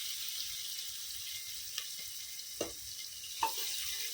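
Chopped onions with salt dropped into hot tempered oil in a pan for a Hindi home-style cabbage sabji, giving a few soft sizzling crackles and spatters over a quiet, low frying hiss.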